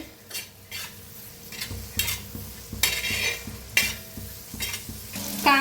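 Onion and tomato stirred in a frying pan, a steady sizzle broken by repeated scraping strokes of a utensil against the pan at a fairly even rhythm, close and clear, with no voices.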